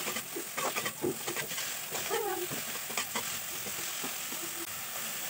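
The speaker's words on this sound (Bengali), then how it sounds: "মশলাটাকে ভালো করে কষিয়ে নেব।" Ginger, garlic and green chili paste sautéing in a pan as masala for Bengali matar ghugni, giving a steady soft sizzle and hiss with occasional stirring scrapes, close and continuous with no talk.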